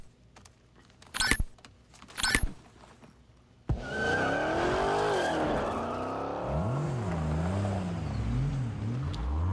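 Car driving in the Saints Row reboot: a sharp engine start, then a loud, steady engine drone whose pitch climbs and falls with revving and gear shifts, after two brief clinks at the start.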